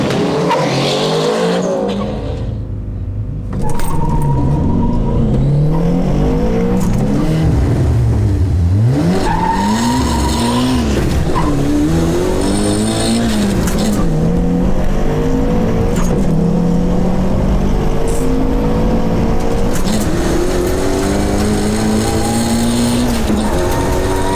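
A turbocharged Toyota GT86 and a turbo Corolla AE86 launch side by side in a drag race, engines roaring loudly and climbing through gears with tire squeal, the rising and falling revs dominating throughout.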